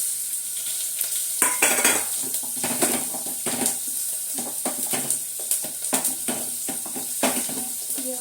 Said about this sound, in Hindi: ये वाला तड़का मैं बहुत अच्छे से लगाती हूँ